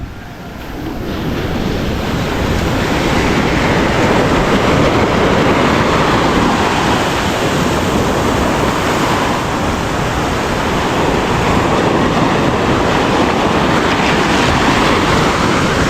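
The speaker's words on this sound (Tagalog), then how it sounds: "malakas talaga yung alon" Strong ocean waves roar continuously at the seaside, a loud, dense, unbroken rush of surf mixed with wind buffeting the microphone, with no talking.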